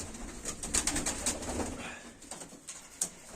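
Baku fighting pigeons coo softly in a loft, a few low throaty calls mixed with faint rustling and a sharp wing flap or two, close by and fairly quiet.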